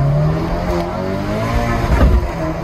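A Volkswagen Golf GTI with a turbo accelerates hard from inside the cabin, its engine note rising continuously and loudly with no break throughout.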